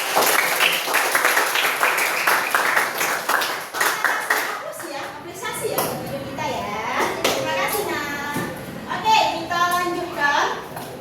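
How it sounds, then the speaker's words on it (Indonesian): A class of children bursts into brisk clapping for a guest teacher during a Pancasila lesson, then the applause fades into lively children's chatter and voices. "Boleh tepuk tangan untuk Kak Yunita."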